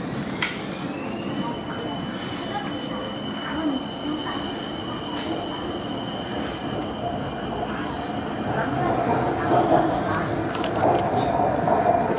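Bangkok Skytrain interior while riding, a steady rumbling hum of the carriage with a long sustained whine and occasional clunks, continuous and close, with someone talking over it.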